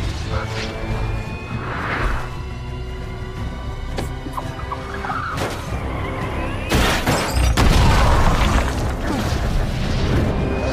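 A fiery explosion in a film scene, with a car speeding away: deep rumbling booms and crashing debris, the heaviest blast bursting in around the middle and roaring on loudly beneath a dramatic score.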